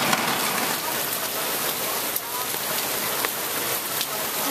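Steady heavy rain from Hurricane Irene pours down in a dense, hissing wash, heard from indoors, with occasional sharper drips and splashes standing out against the constant downpour.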